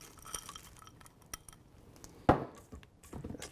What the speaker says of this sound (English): So you're going to stir in the Snickers.